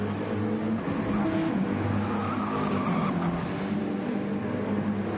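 Porsche GT race car in the RX team at Bathurst during 12 Hour GT qualifying, a steady loud engine roar with tyre squeal, continuous throughout.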